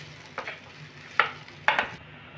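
Potatoes being stirred with spices in a pan on low heat: a soft sizzle underneath, broken by three distinct scraping strokes of a spoon against the pan, the last two louder and close, with no talking.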